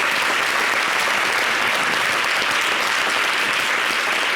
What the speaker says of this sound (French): J'aimerais qu'on puisse applaudir Jacob Desvarieux.